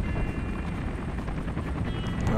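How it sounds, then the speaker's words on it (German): Helicopter in Call of Duty Black Ops, a loud, close, continuous rotor thrum with dense rapid chopping pulses and no talk over it. "da kommt erstmal Woods wie eine Legende vom Helikopter gebracht"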